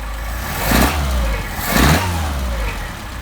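A car engine on 44PHH Solex carburetors runs loud and close after a hot start, giving two quick throttle blips over a rough, steady idle.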